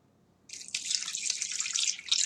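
Water pours steadily into a pot, a bright splashing stream starting abruptly and continuing, close and fairly quiet.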